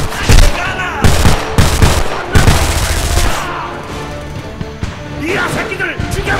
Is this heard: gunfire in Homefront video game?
yes